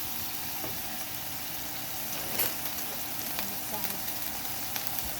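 A pan sautéing with a low, steady hiss, faint and continuous, broken by a couple of light scrapes or taps near the middle.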